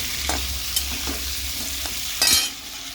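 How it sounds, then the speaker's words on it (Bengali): Food frying in a pan until reddish, a constant close sizzle broken by several spatula scrapes and one louder stirring burst near the end, without voices. "এটাকে একটু লাল লাল করে ভেজে নিচ্ছি"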